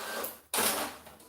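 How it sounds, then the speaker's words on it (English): A printer runs nearby, a steady whirring mechanical noise that breaks off briefly and then starts again louder with a sudden surge, with no talk. "my printer needs my attention"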